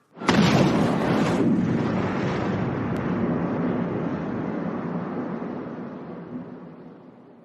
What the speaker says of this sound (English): The grenade detonated in a violent eruption of fire and rock